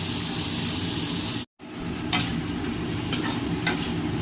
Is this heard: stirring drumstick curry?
yes